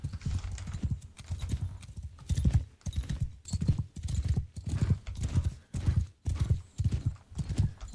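Cavalry horses in the game Bannerlord move in a steady clip-clop of many hooves, loud and close, with rhythmic pulses roughly every half second and an occasional faint whinny.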